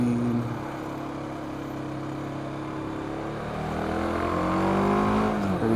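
BMW G310GS motorcycle engine slowing with falling and shifting pitch as it downshifts into a corner, loud and steady close to the rider with wind noise throughout.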